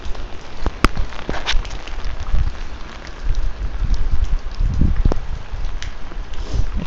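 Rain pattering steadily on a military-style poncho outdoors, a dense close patter with occasional heavier drops and light wind, no voices.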